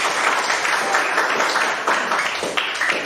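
Applause from students in a mechanical engineering drawing classroom, a close, uneven patter of many hands clapping that continues steadily for a few seconds.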